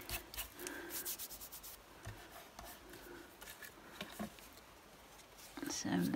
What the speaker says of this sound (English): Luckily it rubs off. That's the good thing about the Collall glue.